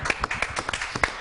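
A small group of people clapping, heard as close, distinct, uneven hand claps in quick succession over a short burst.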